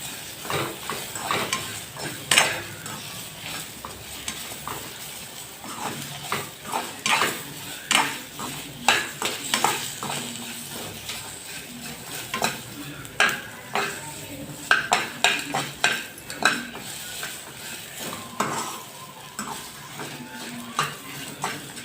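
Onion fries in a pan for a chutney, with a soft sizzle under repeated scraping and stirring clinks of a spatula against metal, irregular and close.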